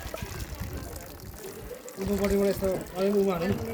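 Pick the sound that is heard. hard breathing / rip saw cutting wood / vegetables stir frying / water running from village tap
water running from village tap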